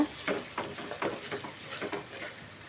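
Ginger garlic paste frying in a hot pan, a steady soft sizzle with a series of scraping stirs recurring roughly every half second, close by with no talking.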